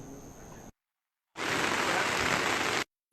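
Heavy rain pours down at an outdoor 75th Independence Day gathering in Jammu and Kashmir, a dense, steady hiss that cuts out abruptly twice, leaving short silent gaps.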